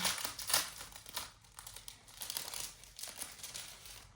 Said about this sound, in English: I'm going to try to turn away so you don't hear as much crinkling.